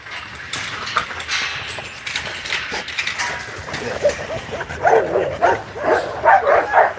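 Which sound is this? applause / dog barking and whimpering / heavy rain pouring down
dog barking and whimpering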